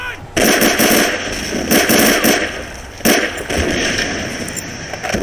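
Gunfire rattles through a Great War of Army Men 5 battle, with loud bursts of machine-gun fire and sharp cracks repeating in waves, under occasional background voices.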